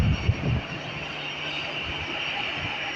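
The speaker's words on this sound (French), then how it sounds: "Voilà l'atterrissage de EasyJet." EasyJet airliner landing at an airport, a steady broad jet roar with a high whine, a few heavier low thumps at the start, then an even rumble throughout.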